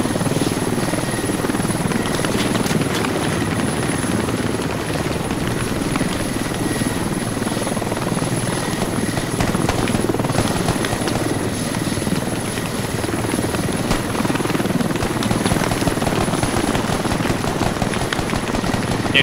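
Helicopter flying overhead in the military video game Squad, a loud continuous rotor thump and turbine whine with a steady high tone, close and constant for the whole stretch with no voices.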